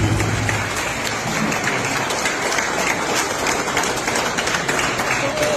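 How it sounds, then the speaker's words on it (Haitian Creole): An audience at a political gathering breaks into dense, steady applause, loud and sustained, with many hands clapping at once and a crowd murmur blended in. "Sous applaudissement, s'il vous plaît."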